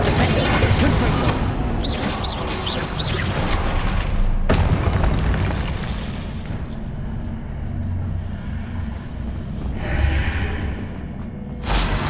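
Confringo, a blasting spell in the Hogwarts Legacy video game, goes off as a deep booming explosion, with a second burst later, over a dense, continuous bed of game music and ambience.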